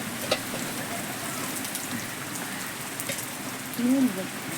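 Heavy storm rain pours down in a steady, dense hiss close by, with a short louder burst of some other sound near the end.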